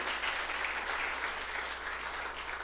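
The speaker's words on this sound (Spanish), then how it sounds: "Al que merece una ofrenda de aplauso." A church congregation applauding steadily, a dense wash of many hands clapping at an even level from start to finish.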